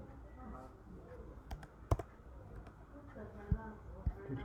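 Keys on a computer keyboard are tapped to type a search into Google Chrome on a Mac, a few sparse, quiet clicks spaced irregularly under a low room hum and faint talk.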